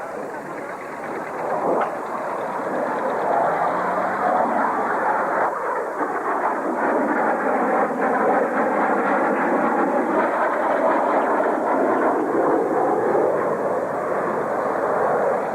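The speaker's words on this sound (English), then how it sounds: "here comes the Harrier" Harrier jump jet at the 1999 North Weald Airshow, a loud, sustained engine roar with shifting whine that swells and holds steady across the whole stretch, with crowd noise beneath.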